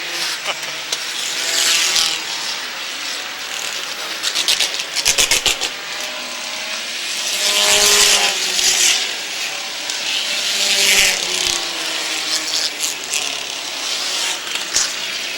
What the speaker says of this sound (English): Car barreling through the infield.